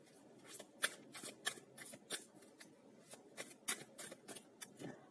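Tarot cards are shuffled by hand at close range, giving a quick, irregular series of crisp riffling and slapping bursts with short pauses between them, heard alone.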